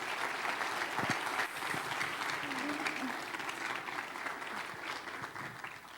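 An audience applauding at a church gathering, with sustained, even clapping filling the whole stretch and a voice speaking faintly beneath it.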